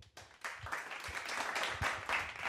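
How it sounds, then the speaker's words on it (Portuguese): An audience at a live comedy roast-style show breaks into applause, the clapping swelling after a brief quiet start and holding fairly steady, moderately distant. "recebam agora com fortes aplausos"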